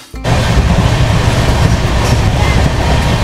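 The Sealdah–Puri Duronto Express roars along the tracks, a loud, dense, continuous rumble that starts abruptly and holds steady throughout.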